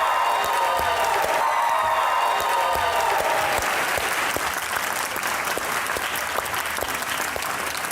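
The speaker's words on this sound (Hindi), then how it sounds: "आपकी भरपूर तालियों में आज के मेहमान हैं कुछ खास, मिकाल जुल्फ़िकार और आमना इलियास।" A studio audience at a comedy talk show breaks into loud, continuous applause with a few cheers to welcome two guests, while a musical sting rings out briefly at the start.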